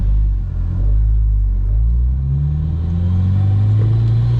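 An 8th-generation Honda Civic Si tuned to 350 horsepower pulls hard on a freeway, its deep engine rumble loud and close, rising steadily in pitch as the car accelerates.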